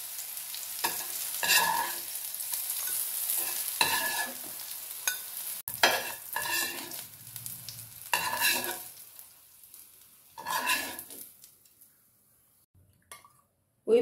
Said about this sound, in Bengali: করলা আমার বেশ লাল লাল করে বেশ ভাজা হয়ে গেছে।